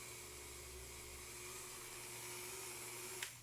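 A power drill with a drill bit bores into an action figure during a repair, a steady faint whine that holds throughout and ends with a brief sharp click, no talking.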